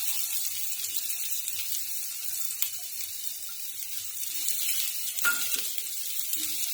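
Onion and garlic frying in a pan, a soft continuous hiss and sizzle with a few faint clinks of stirring, fairly quiet and close, with no talking.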